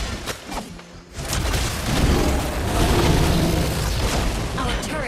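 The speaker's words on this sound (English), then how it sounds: "Your team destroyed a turret!" A turret being destroyed in Mobile Legends: after a brief lull, a heavy explosive boom erupts and rolls on as a sustained, loud rumbling crash for several seconds.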